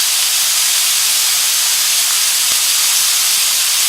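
Hamburger patties seasoned with salt and black pepper sizzle hard in a hot, smoking pan, a loud unbroken hiss that holds steady throughout with no voices over it.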